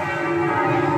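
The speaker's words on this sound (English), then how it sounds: "where the church bells are the theme to Jaws" Church bells ringing in Antwerp, Belgium, a loud, dense wash of sustained metallic tones and overtones that hums continuously without pause.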